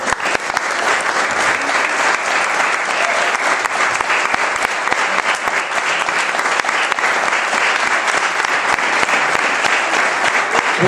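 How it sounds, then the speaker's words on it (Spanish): A church congregation claps continuously and loudly for a long stretch, a dense wash of hand claps from the worship crowd with little speech. "Ese aplauso al Señor"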